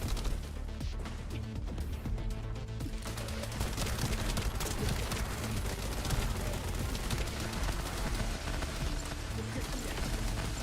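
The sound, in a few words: gunfire from a gun in The First Descendant video game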